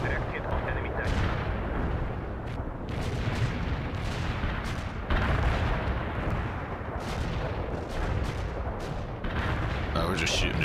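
Gunfire and artillery in the World in Conflict strategy game rumble as a dense, continuous barrage of booms and cracks, with louder hits breaking through the constant roar.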